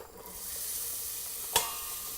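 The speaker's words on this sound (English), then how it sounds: "Nice sizzling sound." Steady broadband sizzling of onions frying in hot oil, continuous and close, with a brief clatter of a pan or utensil near the end.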